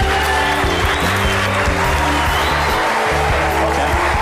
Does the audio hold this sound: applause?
yes